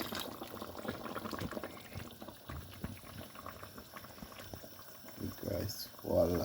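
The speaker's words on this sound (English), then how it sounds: "I'm gonna just add a bit of water to lighten it up for now" Water goes into a brown stew sauce for pigtails, and the sauce bubbles and gurgles steadily at close range with a few louder liquid splashes toward the end.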